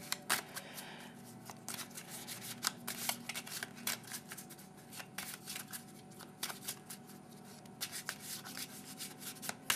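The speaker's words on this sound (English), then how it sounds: "Then he has his deck, you have yours. You shuffle it." Cards are shuffled continuously with crisp riffles and soft rubbing slides, quiet and close, repeating in quick bursts.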